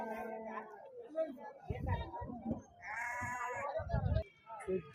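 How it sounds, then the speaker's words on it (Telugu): Goats bleat repeatedly at a rural livestock market, several calls overlapping with crowd chatter and voices talking nearby. "ఏలవాడి మేకలు అండి జబర్దస్త్ ఉన్నాయి"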